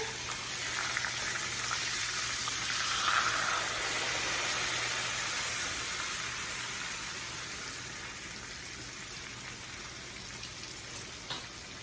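Chicken sizzles and crackles steadily in a hot pan, a soft continuous hiss with occasional louder pops and no talking.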